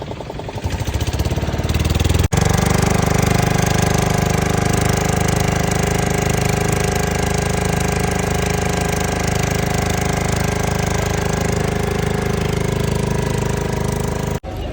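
A loud, continuous engine roar with a rough mechanical rattle runs throughout, close by and steady, a motorboat cruising on the Narmada River near a river confluence.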